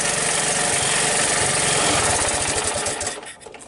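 A 1981 Honda ATC185S three-wheeler idles with a steady rapid putter through its original exhaust, loud and close, then sputters and dies away into near silence at the end as it runs out of gas.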